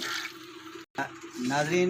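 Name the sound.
water from buckets being poured into a pulao pot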